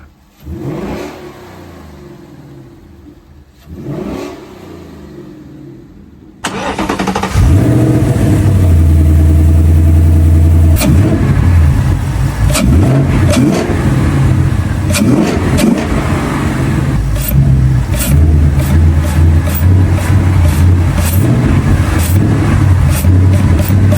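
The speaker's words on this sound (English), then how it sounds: "see how this thing sounds. So let me go ahead and start it up." A Ford Mustang GT V8 engine with JLT intakes cranks and fires up, then revs hard in repeated loud bursts over a deep idle rumble, close and powerful.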